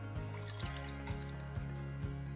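Water pours steadily into a crock pot holding chicken broth and seasonings for a chicken soup, a soft continuous trickle with a few brief splashy bursts, close by and fairly quiet.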